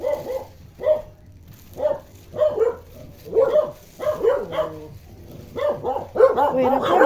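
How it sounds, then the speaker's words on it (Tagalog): A dog barks repeatedly in short bursts, roughly one or two barks per second, fairly close and loud, with some yips and whimpers mixed in. "ayan may aso"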